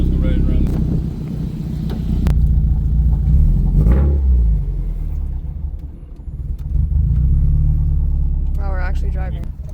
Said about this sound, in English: Wow, we're actually driving.